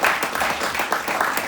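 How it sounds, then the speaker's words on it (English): Audience applause at a comedy show at the Gnarly Deli, a steady dense patter of many hands clapping throughout, fairly close and moderately loud with no talk over it. "A big round of applause for the Gnarly Deli for one."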